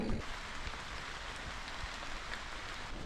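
Rain falls steadily outdoors, a dense even hiss of drops on surfaces that continues throughout, moderately faint with no talk over it.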